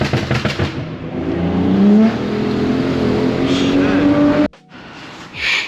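A BMW E90 car stuck and spinning its wheels: a revving engine rises and holds, with tire whine climbing in pitch, then cuts off abruptly near the end, close and loud, with a voice talking over the start.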